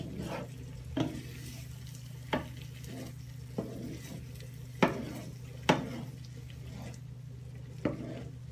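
A mushroom and chorizo risotto is stirred in a pan, with a soft constant simmer and about seven spaced spoon knocks against the pan, quiet and without talk.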